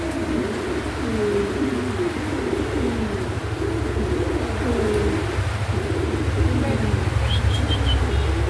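A male Afshan grizzle pigeon coos in repeated rolling phrases close by, steady over a constant low background hum, with a faint higher chirp near the end.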